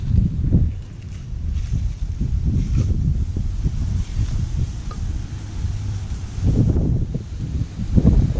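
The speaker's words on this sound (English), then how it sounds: "Windy as hell now" Strong outdoor wind ahead of Hurricane Nate buffets the microphone in heavy, uneven low rumbling gusts, loudest at the start and near the end, with faint rustling beneath.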